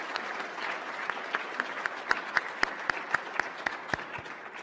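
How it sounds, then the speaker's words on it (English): Audience applause at NASA's 50th anniversary celebration of Apollo 17: sparse, distinct claps ring out at an even pace in a large hall, with no talking over them. "please join me in a warm round of applause for those who made this possible"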